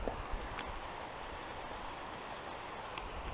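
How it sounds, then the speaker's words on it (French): A small mountain waterfall along a hiking trail in the Pyrenean lakes area gives a steady, even rush of water noise, soft and continuous with some wind. "Belle petite cascade ici."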